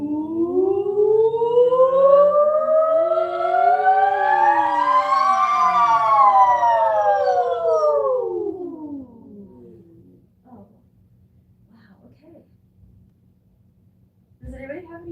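Several voices imitate a siren together in a breathing and singing exercise, sliding up in pitch then gliding back down over about eight seconds before fading to near silence.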